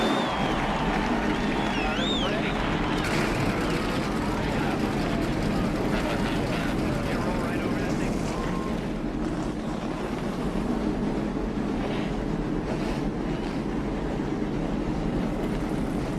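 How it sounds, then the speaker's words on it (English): NASCAR Cup Series race cars at Phoenix fire their engines together, a dense, loud, continuous roar of many engines with rising revs and crowd noise layered throughout. "Let's go trackside for the command to fire engines."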